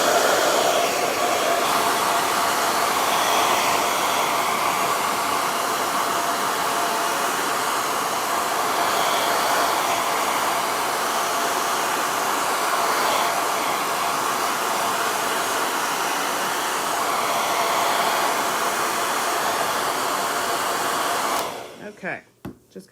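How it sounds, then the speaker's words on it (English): A handheld hair dryer blows steadily and loudly for about twenty seconds to dry the background paint of a pumpkin painting, then switches off with a brief clatter at the end. "I'm going to get my hairdryer real quick because I want to dry some of that background up"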